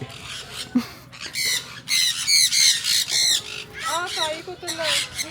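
Birds squawk in an enclosed aviary at a Khao Yai resort: loud, harsh calls come close together in repeated bursts, with short gaps between them.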